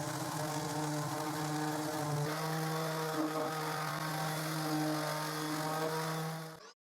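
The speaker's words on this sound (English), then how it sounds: "now I use gross grit sandpaper to sand until all the joints and the edges are even" Coarse-grit sandpaper sanding a finger joint box made of reclaimed wood, evening the joints and edges; a steady, loud, continuous power-sander whir runs close up throughout, with no talk.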